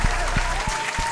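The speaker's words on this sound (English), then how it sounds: "Clap it up." Short burst of applause on a New York Giants football preview show, a dense wash of clapping with a few louder low thumps, close and steady for about a second.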